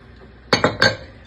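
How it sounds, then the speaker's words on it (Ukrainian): A spoon stirs kutia, boiled wheat sweetened with honey, in a bowl, giving three quick close clinks of metal against the dish in a short burst, then quiet. "Перемішуємо, щоб мед рівномірно розподілився по пшениці."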